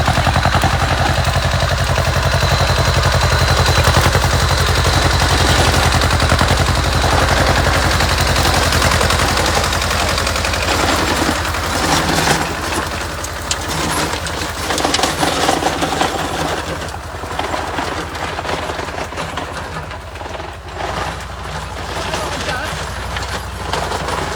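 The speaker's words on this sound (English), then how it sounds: "And here is Simon weeding on his Caterpillar tractor." Caterpillar crawler tractor weeding rows in a vineyard, its engine a loud, dense, rapid mechanical clatter close by, easing somewhat later as it moves, with a person talking over it.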